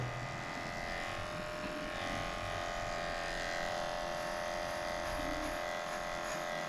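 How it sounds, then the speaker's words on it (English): Electric clippers shave a dog's coat, giving a steady, quiet, continuous buzzing hum that runs the whole time without breaks. "I'm doing this with this side of the clipper, so if she moves suddenly, I would not scratch her."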